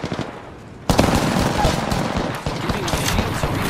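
Rapid automatic gunfire in the video game Apex Legends bursts in loudly after a quieter opening and keeps rattling in a dense, continuous stream with brief breaks, close and dominant.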